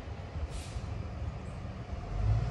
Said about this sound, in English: And now there's a school bus.